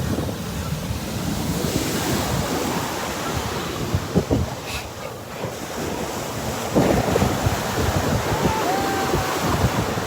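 Ocean waves rolling onto a beach with strong wind buffeting the microphone, a loud continuous wash of surf and gusts throughout with no clear talk.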